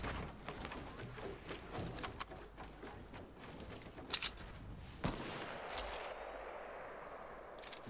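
Gunfire in the video game Fortnite, rapid bursts of quiet shots and clattering impacts through the first half, then a sharper crack and a softer, more distant ambience, with no talk.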